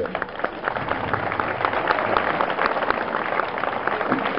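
Audience applause at the Fête de la Sainte-Rosalie in La Fare during an outdoor festival speech: a steady, dense patter of many hands clapping that holds fairly loud and even throughout, with no voices over it.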